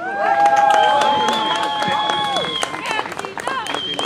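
A crowd at a Canadian 10 km roller championship race claps and cheers steadily for the first Canadian finisher. Sustained tones ring over the applause, and voices talk through it.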